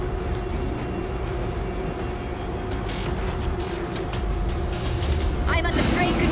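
A train starts up in the World War Z video game with a steady low rumble and hum, rising clatter and hiss toward the end, while a voice talks over it.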